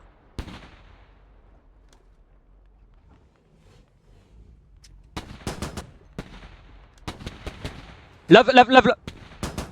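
Gunfire in the military shooter game Squad: scattered sharp shots, then clustered bursts of automatic fire growing louder toward the end, with a player speaking briefly between them.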